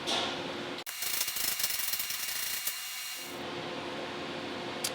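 A double fitting is screwed in while installing a Split-fire log lifter, giving a run of quick ratcheting clicks close by, then a quieter stretch of fine mechanical ticking.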